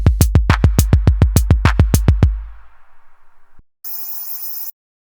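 A punchy electronic drum break from a Eurorack modular sequencer hits in a fast, steady run for about two seconds, then trails off, followed by a short bright synthetic burst.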